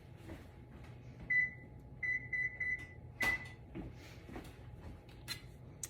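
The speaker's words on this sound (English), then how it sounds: "we're gonna preheat the oven to 425" An oven control panel being set to preheat to 425, several short electronic beeps in quick groups with a sharper final tone, close but quiet against faint kitchen background.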